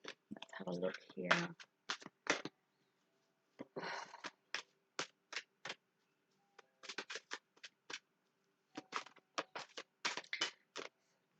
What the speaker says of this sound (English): Just as I'm shuffling